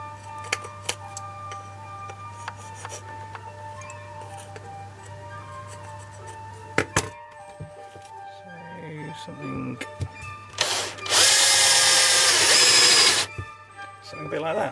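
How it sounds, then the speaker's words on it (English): A person talks amid small handling clicks and taps, then a loud, rough burst of drilling with a Forstner bit lasts about two seconds before stopping. "Back to trying to work out where to drill a hole through here."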